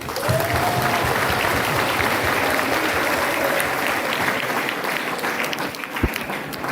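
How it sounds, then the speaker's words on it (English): Audience applause for a chief guest at a school Parents' Day event, a dense, even roar of many hands clapping that holds steady for several seconds before tapering slightly near the end. "Let's give a big round of applause to Father."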